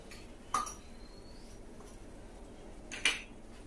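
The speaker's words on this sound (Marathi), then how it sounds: "आता पळयता एक सान पॅन दवरला हांवें" A small pan set down on a kitchen surface, two faint metallic clinks about two and a half seconds apart in an otherwise quiet room.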